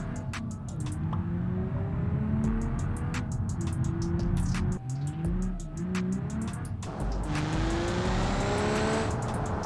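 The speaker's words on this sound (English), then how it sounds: "Oh, this engine sounds great." A modded car engine in the BeamNG.drive driving game revs up and down repeatedly, with bright whining harmonics rising and falling under occasional tire squeal, loud and close with no talk.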